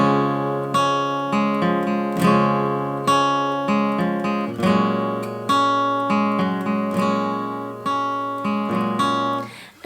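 An acoustic guitar strums and picks a pattern at a faster pace, a steady rhythmic flow of ringing chords and plucked notes played close, with no talking over it.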